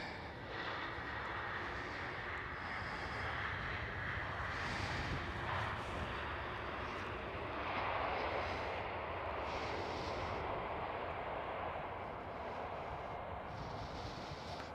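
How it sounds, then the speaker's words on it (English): EasyJet Airbus A320neo at Amsterdam Schiphol, its engine roar sustained and steady throughout, swelling slightly midway as it passes fairly close, with no voices over the broadband rumble. "So you guessed it, it is an A320 Neo."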